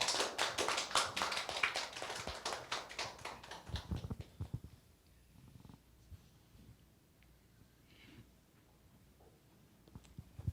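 Church congregation clapping to welcome a missionary to the front during a Sunday service, a loud burst of rapid hand claps that thins out after about four seconds into scattered taps and quiet room noise.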